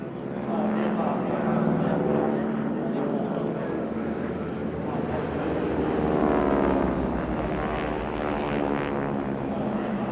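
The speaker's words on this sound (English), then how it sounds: "The Harvard isn't a very fast aircraft, which means that its display can be placed fairly and squarely over the heads of the crowd." A Harvard aircraft flies an aerobatic display at the RAAF 70th Anniversary Airshow. Its propeller engine makes a continuous broad roar that swells and shifts in pitch as it passes, with a voice talking over the noise.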